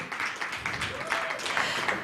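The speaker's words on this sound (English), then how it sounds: "Can we give them a round of applause?" An audience at a women in leadership event gives a moderate round of applause, a fairly quiet, steady patter of clapping hands that swells slightly toward the end.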